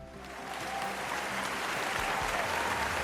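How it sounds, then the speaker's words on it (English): Steady applause from an audience, building over the first second and then holding loud and dense as a continuous wash of clapping. "It also deserves a round of applause"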